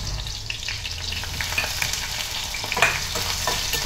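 Onion and green chillies fry in hot oil with a steady, close sizzle and the scrape of stirring, cooked on a single home stove burner, with no talking over the noise.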